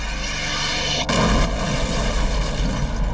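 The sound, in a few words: explosion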